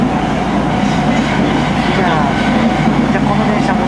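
A Nagoya Municipal Subway Meijo Line train rumbles steadily and loudly throughout, a continuous interior ride noise with faint rail clatter, and there is likely some background voice activity.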